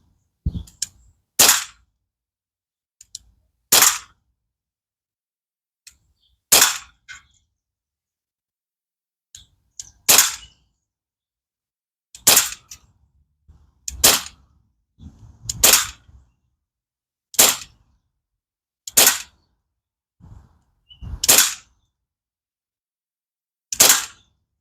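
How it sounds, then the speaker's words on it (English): Crosman 1911 BB pistol fired at a can, about a dozen sharp, crisp pops spaced a second or two apart in an otherwise quiet setting, loud and close, with faint clicks between some shots. "Let's just shoot another clip or so and see what happens."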